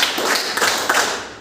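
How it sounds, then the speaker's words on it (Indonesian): A class claps together in a counted rhythm, a few crisp, close hand claps in quick succession in a classroom with no one speaking. "tepuk 1 kali, tepuk 2 kali, tepuk 3 kali, tepuk 4 kali"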